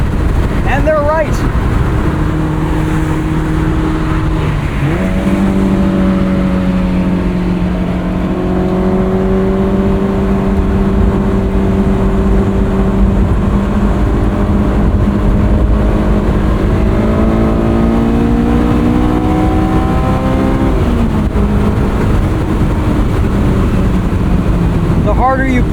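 A 2001 Honda S2000 on coilover suspension pulls hard on a drive, its engine revving up and down through rising, falling pitch sweeps for the whole stretch, loud and close, with a voice talking over it.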